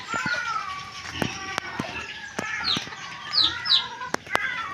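A mother hen clucks in short repeated bursts near a village yard, mixed with sharp clicks and knocks and a few higher calls, with people talking in the background.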